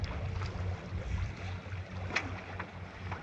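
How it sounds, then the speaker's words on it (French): A sailboat slides gently through the waves on a solo voyage, giving a soft, steady wash of water and wind with a faint low rumble beneath and no talking. "Le bruit du bateau qui file sur les vagues, mais doucement"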